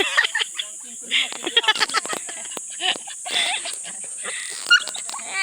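At a beach, a dog whimpers and gives short yips close by, mixed with people talking and a steady high background hiss.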